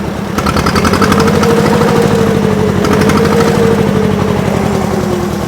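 A T-25 tractor engine runs nearby with a loud, rapid thumping chug and a faint rising whine over a deep rumble, steady throughout with no voices.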